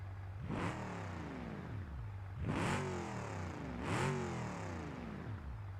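Three bursts of V8 farm truck engine revving in BeamNG.Drive, each rising sharply then falling back to a steady idle, loud and close with no talk over it.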